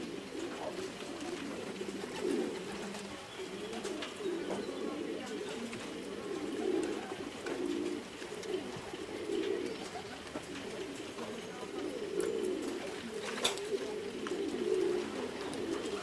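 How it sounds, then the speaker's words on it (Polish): Soft, repeated cooing of several racing pigeons close by, a low rolling murmur that rises and falls over faint background noise. "Gołębie sobie siadają."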